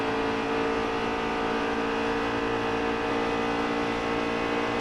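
Race car engine accelerating through the gears during a race at Kansas in a racing video game, a loud sustained roaring whine that holds steady throughout, with no talking.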